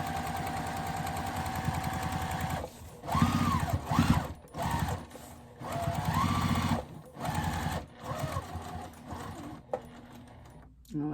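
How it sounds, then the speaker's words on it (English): A sewing machine stitches a pocket onto a tote bag trimmed with vintage linen and lace, running in several bursts with short pauses between them. The motor whirs up and down in pitch, close and clear. "Gonna back stitch, go to the corner right before the lace, turn, and stitch all the way around."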